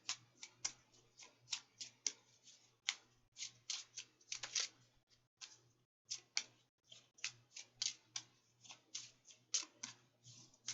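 Tarot cards are shuffled in a quick, uneven run of soft slapping clicks, close but faint, with one brief pause midway and no talking.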